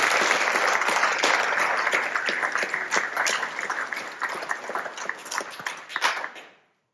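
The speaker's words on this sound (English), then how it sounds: "So how about a round of applause?" Audience applauding a nearby site in northern Michigan, a dense wash of many hands clapping steadily for about six seconds before fading out.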